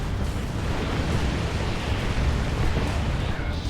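Tank Buster Barrage artillery in a Dawn of War 2 multiplayer battle, a dense continuous rumble of overlapping explosions filling the scene at steady loud volume.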